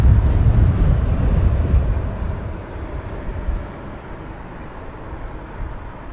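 An Air India Boeing Dreamliner at Heathrow Airport produces a broad rumbling jet roar, loud at first and slowly easing over six seconds, with wind buffeting the microphone and no talk.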